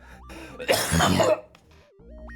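A man on a game stream coughs in a loud close burst, then clears his throat, with game music tones beeping in the background before and after.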